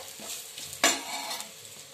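Chilies being stirred with spices and dry mango powder in a hot pan, a steady soft sizzle with scraping stir strokes and one sharper clatter near the middle, close and alone.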